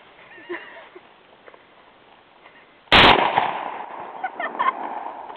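One loud, sharp gunshot cracks out close by with a brief ringing tail, following quiet background murmur and faint talk, and is then followed by voices and movement.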